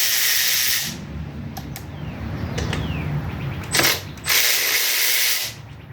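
A ratchet clicks steadily while loosening bolts on a 1975 Yamaha 175 barn-find motorcycle, close and fairly loud, with brief pauses and bursts of rapid pawl clicking.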